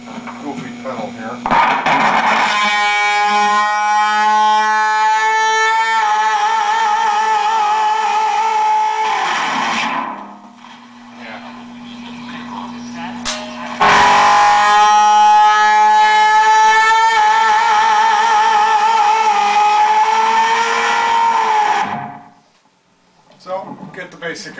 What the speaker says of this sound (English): Now I'm going to try this other setting on this goofy pedal here.